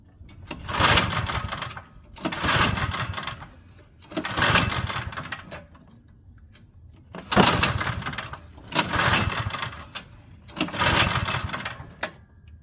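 Craftsman snowblower engine, a curbside find low on fuel, catching in loud bursts: six separate surges of rough running, each lasting about a second and a half with brief quiet gaps between them, as it sputters and stalls repeatedly.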